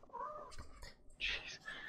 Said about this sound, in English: My cat just scared me.